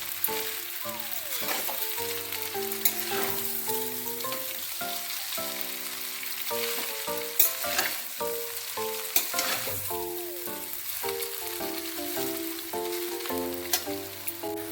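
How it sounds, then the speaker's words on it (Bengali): Chowmein frying and being stirred in a pan, with a constant close sizzle, scraping strokes at intervals, and no speech. "দিয়ে ভালো করে চাউমিনটাকে কিছুক্ষণ ভেজে নেব।"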